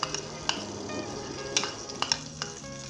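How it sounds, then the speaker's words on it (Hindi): Vegetable ghee sizzles in a deep pan over medium heat, giving a soft, steady hiss broken by a few sharp clinks of a utensil against the pan. "इसके अंदर सबसे पहले हम वेजिटेबल घी डालेंगे 1 टेबल स्पून के करीब"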